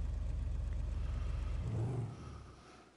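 A motorbike engine in Grand Theft Auto V idles with a steady, low rhythmic purr before easing off and fading, with no talking over it.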